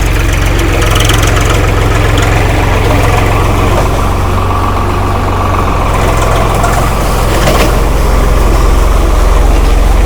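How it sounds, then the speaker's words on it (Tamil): A tractor ploughs a marigold field during its first ploughing, its engine a loud, steady diesel drone that runs unbroken and close throughout, with no voices over it. "இந்த வண்டியை ஓட்டுநர் நல்லா கவனித்து கவனித்து எங்கெல்லாம் இது கிடக்குதுன்னு பார்த்து ஓட்டுறாரு"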